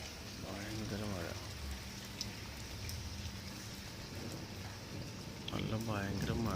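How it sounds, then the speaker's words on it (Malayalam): Heavy rain in Dubai makes a soft, constant wash of noise while a person talks over it near the start and again at the end. "നല്ല ഭയങ്കര മഴയും ഇടിയും."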